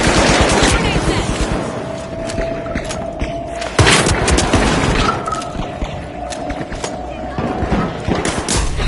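Grenade blasts and rapid gunfire in the arena shooter The Finals: dense, loud bursts of automatic fire and heavy booms, one especially strong thump midway, with a voice faintly present under the din.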